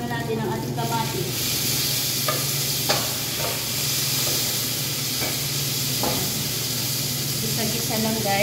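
Tomatoes dropped into a hot pan with onion and garlic hiss and sizzle steadily while a utensil scrapes and stirs at intervals, close and continuous.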